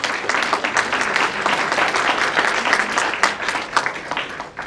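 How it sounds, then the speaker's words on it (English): An audience at a book launch ceremony for Zarine Viccajee's "My Way", opening Metaphor Literature Festival 2021, gives a sustained round of applause, with many hands clapping thickly and unevenly for several seconds. "May we have one more big round of applause?"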